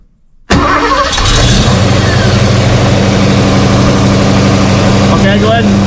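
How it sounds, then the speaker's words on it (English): A car engine fitted with a new Silversport transmission starts and then runs steadily at a loud, close idle throughout, with a person speaking faintly over it. "Trish, go ahead and start it up and put it in first gear again"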